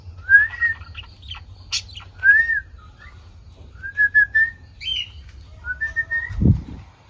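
Pet birds answering a call with a string of clear whistled chirps and tweets, spaced irregularly and close, with a brief low thump near the end.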